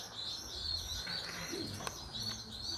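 Janssens racing pigeons in a loft give soft, faint coos and chirps, quiet and close against a low background hum.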